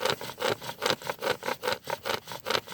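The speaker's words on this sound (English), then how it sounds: "I'll just take my bow and start working it back and forth." A wooden bow drill worked steadily back and forth on a wooden fireboard, giving about nine even, rhythmic rasping strokes of wood rubbing on wood, close and fairly loud, with no talking.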